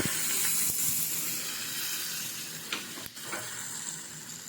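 Curry leaves drop into hot oil for a wood apple chutney and set off a loud, close hiss and sizzle that eases slightly, with a few brief stirring scrapes.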